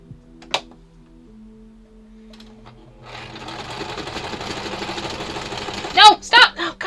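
A sewing machine stitching fabric on a craft project runs steadily and fairly close for about three seconds after a quiet start, ending in a few abrupt louder knocks as it stalls.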